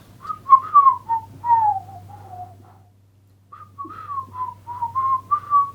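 A person whistles a lilting tune in two phrases separated by a short pause, the notes clear and close, sliding between pitches over a low steady hum.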